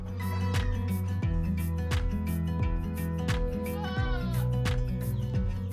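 Etawa goats at a village farm bleat repeatedly during feeding, several overlapping calls close by over steady background noise.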